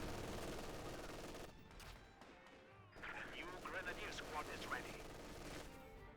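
In Company of Heroes 2, an MG42 machine gun fires from inside a building, with rapid bursts and scattered shots crackling amid a busy battle soundscape, fainter at first and then louder toward the end.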